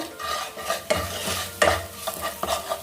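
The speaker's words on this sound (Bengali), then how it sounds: "ভালো করে নেড়ে চেড়ে মিশিয়ে নেব" Chicken is stirred together with turmeric and Kashmiri chili powder in a pan, with close, repeated scraping strokes over a light sizzle.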